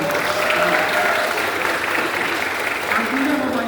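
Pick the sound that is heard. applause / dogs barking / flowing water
applause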